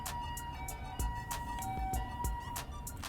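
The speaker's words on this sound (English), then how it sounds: "Pardon the sirens, you know how it is." A faint emergency vehicle siren holds a steady wavering tone far off in New York City, beneath a soft, continuous urban background with a few clicks.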